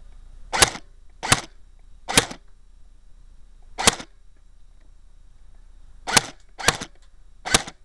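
Seven sharp airsoft gun shots fired during a test, each a crisp snappy crack standing alone against quiet, spaced irregularly in a quick run of three, a single shot, then a closing burst of three.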